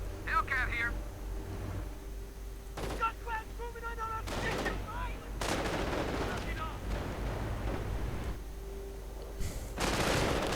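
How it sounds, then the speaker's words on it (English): Artillery barrages in a WWII real-time strategy game: several sharp booming impacts and crackling blasts at intervals, mixed with gunfire and game voice barks. "We see artillery getting called in to actually cover the retreat of the anti-tank gun"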